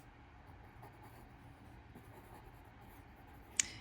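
A colored pencil scratches faintly across paper while drawing a house finch, a soft continuous scraping close by that ends with one sharp tick.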